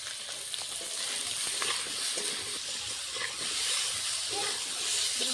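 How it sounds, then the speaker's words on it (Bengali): Potatoes seasoned with salt and turmeric fry steadily in a pan, a close, continuous sizzle with soft hiss and light stirring scrapes, no voices. "আলুটা ভাজা হোক"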